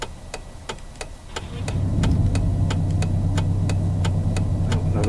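A car engine in a driving simulator game cranks and catches, settling into a steady loud idle rumble, while a regular ticking, like a hazard-light indicator, clicks on throughout.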